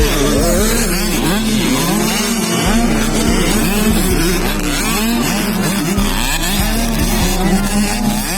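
Small 65cc motocross bikes race in a final heat at a Valencia City Charter Day motocross event, several high-pitched two-stroke engines buzzing and revving in overlapping waves, rising and falling as they pass, loud and continuous.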